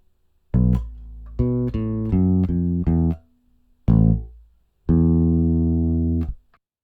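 A bass guitar plays the note sequence from a song, a series of clear, sustained low notes with short gaps and a final long held note, heard alone and fairly loud.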